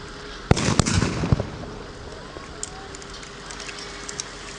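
Grenade blasts during a military training exercise at a youth riflemen's gathering, heard as a few sharp cracks in quick succession followed by a rumbling wash of outdoor noise that fades, with faint distant pops later.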